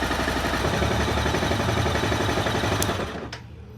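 A Honda CBR 250R motorcycle engine running at idle, close and loud with a fast, even mechanical chatter, then dropping off sharply near the end.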